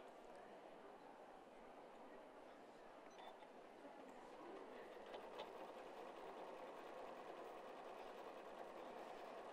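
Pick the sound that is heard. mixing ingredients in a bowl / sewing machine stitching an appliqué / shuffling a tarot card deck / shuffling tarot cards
sewing machine stitching an appliqué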